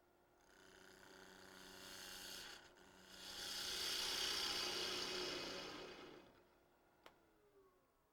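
A 3/8 spindle gouge rasps against spinning wood on a lathe while cleaning a flat surface, a steady hissing cut that swells, pauses briefly, then fades, with a sharp tap near the end.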